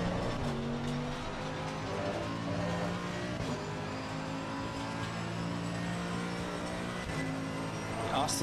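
Race cars in the video game Assetto Corsa Competizione as a McLaren overtakes, steady loud engine drone with shifting pitch and brief gear-change breaks, sustained without pause.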